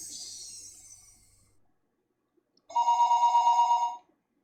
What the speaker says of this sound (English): The phone rang for a third time.